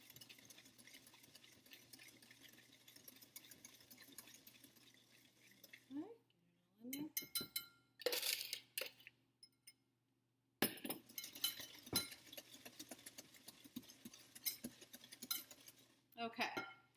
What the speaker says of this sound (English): you're going to whisk your butter and your oil in with this mixture slowly